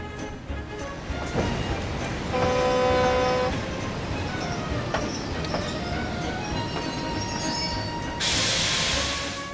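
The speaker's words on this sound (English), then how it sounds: "Topham arrived aboard a grey diesel locomotive that Mavis had never seen before." A grey diesel locomotive arrives on the rails, with a steady rumbling body, squealing wheels and tonal whines building midway, then a bright hiss of air or brakes near the end; no one speaks.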